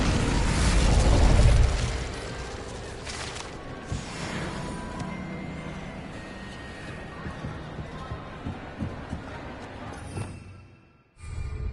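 An Incendio fire spell in Hogwarts Legacy bursts with a loud, roaring whoosh, then gives way to a stretch of crackling, popping game effects and ambience before a short drop and a final swell.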